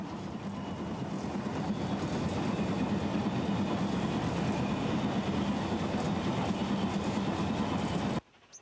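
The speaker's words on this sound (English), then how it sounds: "from the footplate of the Pines Express as we cross Watery Bottom Viaduct on the 31st of July 1962" A BR Class 9F steam locomotive hauls the Pines Express across Watery Bottom Viaduct in 1962, heard from the footplate as a loud, continuous rumbling roar with faint rhythmic clatter that cuts off abruptly near the end.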